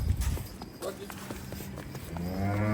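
Dairy cattle on a Punjab farm, with a cow letting out a drawn-out, resonant moo near the end, preceded by shuffling hoof and movement noises and people talking nearby.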